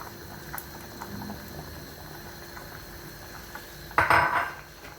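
A utensil scrapes and clinks around a pot of Algerian olive stew thickened with flour, soft rhythmic stirring over a faint simmer, ending in a louder metallic clatter against the pot.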